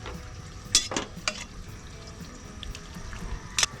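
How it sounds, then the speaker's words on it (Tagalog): Water is poured into a pot of simmering kangkong, giving soft splashes and trickles over a low bubbling background, with a few sharp clinks of utensils. "Lagyan po natin ng water. Lagyan pa po natin para medyo masabaw-sabaw siya."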